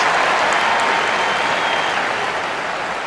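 A dense, sustained roar of crowd applause from a wrestling arena in the video game WWE 2K24, loud and continuous throughout with no speech.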